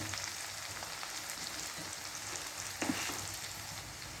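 Green chillies fry in a pan for a gram-flour bhurji, giving a steady, close broadband sizzle that runs throughout, with a brief louder crackle near the end and no talking.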